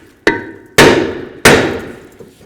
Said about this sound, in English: just take a hammer if this is stuck on, if it doesn't come right off. Just hit in these locations.